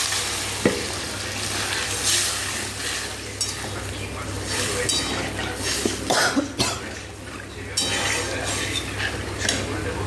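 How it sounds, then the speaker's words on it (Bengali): Water goes into a pan of spice-coated potatoes and pointed gourd, giving a steady close sizzle and bubbling with clinks of stirring and a few sharp utensil knocks, continuing throughout with no speech. "এবার জল দিয়ে দিলাম"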